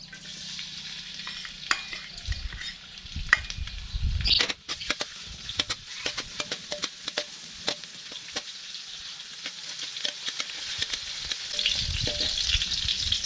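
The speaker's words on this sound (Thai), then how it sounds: "นำพริกขี้หนูสวนกับกระเทียมที่เรา บุกไว้พอแตกลงไปผัดให้หอมค่ะ" Bird's eye chilies and crushed garlic stir-frying in hot oil for a Thai spicy chicken dish, a steady close sizzle broken by repeated scraping and clacking stirs of the utensil, with no talking.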